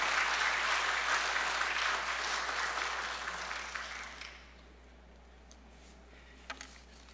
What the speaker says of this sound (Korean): 우리 김 목사님 나올 때 박수로 한번 환영하죠